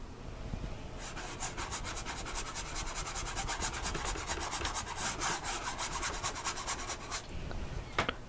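Paint brush passing over canvas while glazing with little paint, making a close, continuous dry rubbing and scratching with rapid back-and-forth strokes, alone without speech.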